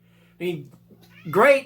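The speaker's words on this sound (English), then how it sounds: "if you hear that meowing back there, that is my cat" A cat meows twice nearby, a short call followed by a longer, rising wail, with a person's voice speaking briefly over a faint steady hum indoors.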